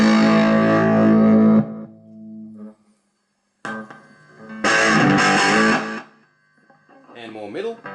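Electric guitar through the overdrive channel of a Beta Aivin BM-6 portable amp, with loud, crunchy distorted chords and phrases that ring out, stop and restart over the eight seconds, with no speech.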